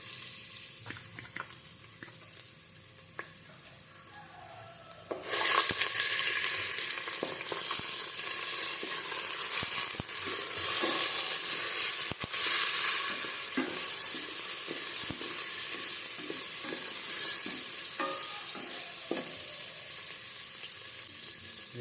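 Minced garlic dropped into hot cooking oil in a cooking pan, a sudden bright sizzle that starts partway through and keeps up as a steady crackling hiss, with occasional stirring scrapes.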